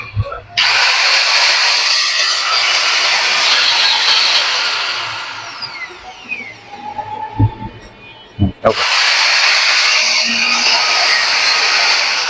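A serviced Lindun 1200W angle grinder runs loud and steady with a high whine, spins down for a few seconds with some knocks, then starts up again at full speed.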